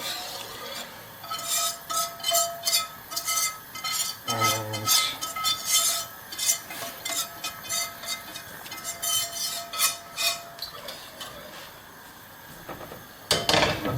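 Mushroom sauce stirred in a pan for a Bavarian Schwammerlbrühe, with a steady run of close, clinking scrapes of a utensil against the pan that keeps a regular rhythm from start to end, plus a brief low thud partway through.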